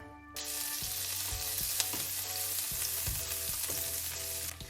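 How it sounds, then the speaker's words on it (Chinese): Parsley herb butter melting in a pan, giving a steady, close, even sizzle and crackle that lasts the whole time with no talking. "咱们将黄油化开以后烧开"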